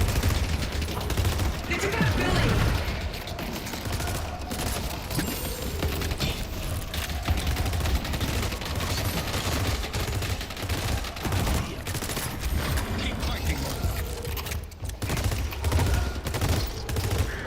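Video game gunfire crackles in sustained bursts of rapid shots and machine-gun fire, dense and steady throughout with occasional louder spikes, with no talk.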